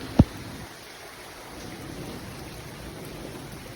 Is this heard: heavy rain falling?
yes